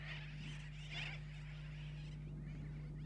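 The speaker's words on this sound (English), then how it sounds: "The silence is pierced by a terrible noise, and the sky is transformed into a sea of flapping wings." A flock of sooty terns in the Keys calls in a raucous, continuous chorus, faint and distant, over a steady low hum.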